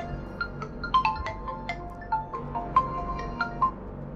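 A mobile phone ringtone plays a melodic series of bright electronic notes in an uneven tune, moderately loud and close, with no talking over it.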